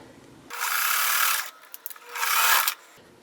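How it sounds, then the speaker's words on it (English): A sewing machine stitches a quilt block strip in two fast, steady bursts of whirring, split by a pause with a few small clicks, loud and up close. "let's just put that there and sew"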